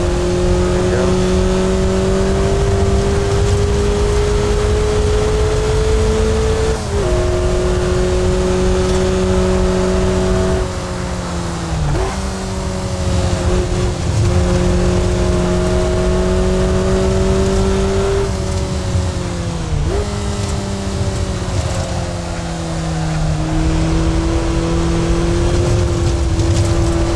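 A race car engine drones loudly through a lap of Bridgehampton Race Circuit in a VR racing game, holding a steady high whine with brief dips and pitch shifts at shifts and corners, no voices.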